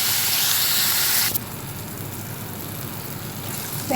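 Tomatoes sautéing with salt in a hot pan for a mutton keema gravy, giving a loud, steady frying hiss that is brightest in the first second, then settles into a softer continuous sizzle.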